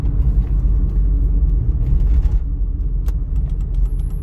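Steady low car engine rumble from inside a vehicle during a driving exam drive in the right lane, shifting up through second and third gear, loud and continuous with no talking.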